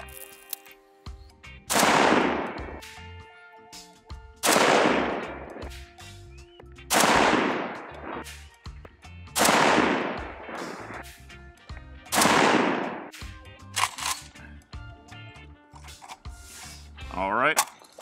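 A rifle fires Tula steel-case, bimetal-jacket ammunition outdoors, with about six loud, sharp shots spaced a couple of seconds apart, each trailing off in a short echo.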